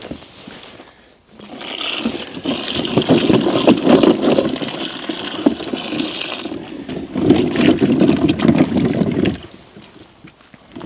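Freshly harvested sweet potatoes washed in water, a loud close rush of gushing, splashing water running steadily for several seconds, briefly easing midway, then cutting off.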